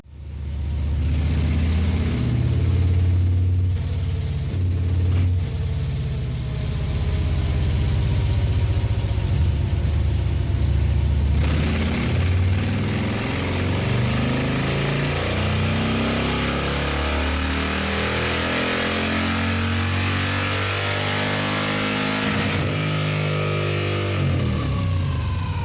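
A motorcycle engine fitted with a Star Racing 30-30 cam runs on a Cyclerama dyno, revving up through a long, loud sustained pull with rising and falling harmonic tones before easing off near the end.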